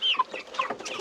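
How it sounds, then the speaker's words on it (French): White broiler chickens cluck and chirp in a steady series of close, fairly loud calls, with no voices. "Et là on a la blanche, poulet de chair blanc quoi."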